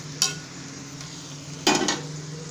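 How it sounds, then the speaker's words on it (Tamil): Vegetables and peas being stirred in a cooking pan for a veg kurma gravy, giving two brief scraping, clattering bursts with a faint sizzle underneath. "காய் போட்டு நல்லா கிண்டி விடுங்க."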